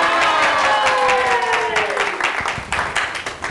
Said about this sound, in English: So big hand of applause to celery.